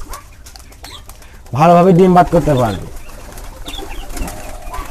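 Pigeons kept in a small 18x24 cage coo softly and steadily in the background while someone talks loudly over them for a second or so.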